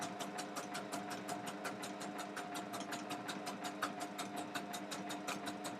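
A home sewing machine runs steadily with rapid, even stitching clatter and an odd strained tone as its bobbin runs low, heard close up and alone.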